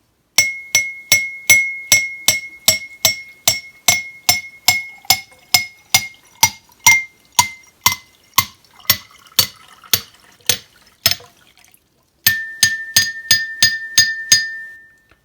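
A drinking glass is struck in a steady series of bright, ringing taps, first while empty. After a short pause, it rings again at a lower pitch once liquid has been added.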